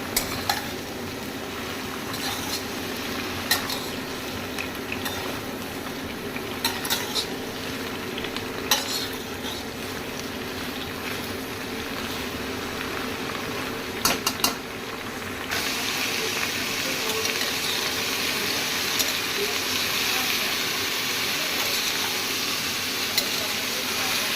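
Pointed gourd (potol) slices fry lightly in a pan with a steady, moderate sizzle and occasional stirring clicks, growing a little louder and brighter near the end.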